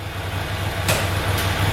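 A Ducati Monster motorcycle engine idles steadily in a garage with a low, even rumble, joined by two brief sharp clicks partway through.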